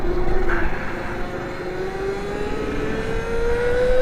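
Burrowmax HRS electric pit bike pushed toward top speed, a thin electric motor whine rising steadily in pitch over wind rush and road noise, moderately loud and continuous.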